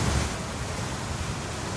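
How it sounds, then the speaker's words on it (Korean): A swollen stream, the Nambang stream, pours down like a waterfall after a sudden downpour: a steady, dense, loud rushing roar throughout, with no voices. "물이 얼마나 많이 쏟아지는지요. 나중에 갑자기 막 폭포를 이루어요."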